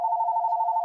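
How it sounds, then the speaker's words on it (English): A phone rings in a steady, loud electronic tone that holds unbroken through the short stretch, with no voices over it. "my phone was ringing"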